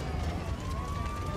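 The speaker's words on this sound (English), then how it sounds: "Fire trucks and ambulances race to help them." Emergency vehicles, fire trucks and ambulances, rush to a burning airliner crash site, with a steady rising siren tone over loud, dense rumbling background noise.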